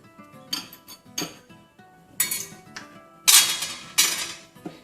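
Corn flour being mixed in a bowl for chicken corn soup, a series of close clinks and scraping knocks of a utensil against the bowl in uneven bursts, no voices.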